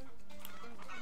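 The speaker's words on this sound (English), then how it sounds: "Wasn't there another chicken back there?" A chicken clucks in the game Zombie Heart Chicken, a short burst of squawky calls mixed into a dense layer of game sound.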